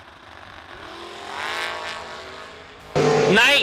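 Drag race cars launching down the strip at a winter warmup event, a roaring engine rising in pitch, then a sudden much louder burst of revving near the end.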